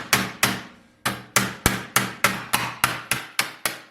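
Hammer blows on the clamped rear door sheet metal of a Mercedes W108/W109 sedan, forming a creased edge at a workbench: about a dozen sharp, ringing metallic strikes in a steady rhythm, close and loud, with no voices.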